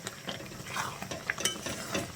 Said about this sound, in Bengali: দিয়ে আবারও ভালো করে মিশিয়ে নিচ্ছি।